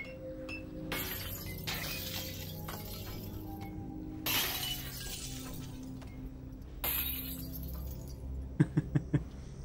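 In the VR game Half-Life: Alyx, three glass bottles are smashed one after another with loud crashing breaks, followed by a quick run of light clinks over a faint background hum.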